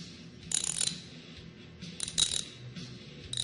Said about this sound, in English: move the wrench back and forth, and it will tighten or loosen the bolt